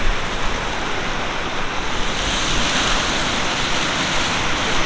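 Water rushing loudly and continuously through a river channel dug by hand with shovels, a dense close-up roar with no voices.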